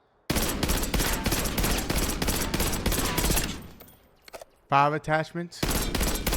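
Automatic gunfire in Black Ops 6 during a recoil test, a loud sustained burst of rapid shots lasting about three seconds, then a brief pause, a short menu-like tone, and another burst, with a voice speaking briefly between.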